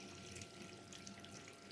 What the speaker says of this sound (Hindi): अब हम इसमें पानी को शामिल कर देंगे।